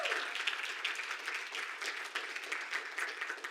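Congregation applauding inside a church, a steady wash of many hands clapping at moderate volume, dense and continuous throughout with no clear pauses.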